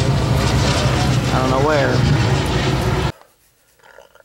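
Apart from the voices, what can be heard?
airplane flying over the Florida Keys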